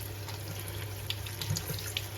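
Tap water runs steadily into a sink while a flower pot is rinsed, a close, continuous splashing stream with small irregular spatters.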